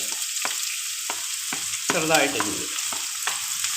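Finely chopped onion frying in a pan gives a close sizzle, broken by regular scraping strokes of a spoon against the pan and a brief louder burst of crackling midway.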